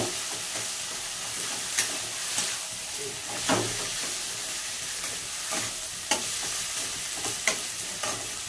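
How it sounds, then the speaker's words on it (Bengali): Mashed boiled potatoes sizzle in a hot pan as a spoon stirs them, steady frying hiss punctuated by occasional scraping clanks against the metal, close and fairly loud with no talking. "এটা নাড়াচাড়া করে দিয়ে দিলাম, দিয়ে একটু নাড়াচাড়া করবো"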